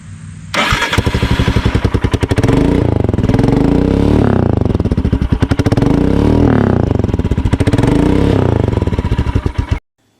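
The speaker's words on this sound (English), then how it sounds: "Now let's do a quick little sound test." Royal Enfield Himalayan motorcycle after a stage 1 upgrade, starting up and running loud and close, with a throaty exhaust rising and falling through several revs before shutting off.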